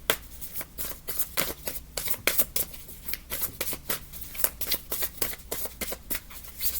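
Tarot cards shuffled by hand in a quick, irregular run of crisp riffling bursts, close and fairly loud with no talking.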